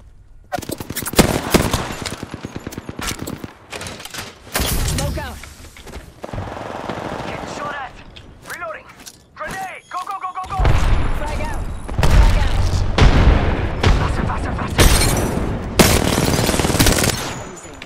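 Rapid machine-gun bursts and booming airstrike explosions in the Apex Legends game, loud and close and repeating throughout, with players talking excitedly over the gunfire.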